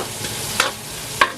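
Dinuguan with ginger and beef cube being stirred in a pan, a faint steady simmer broken by two sharp utensil scrapes and a third at the end, no voices.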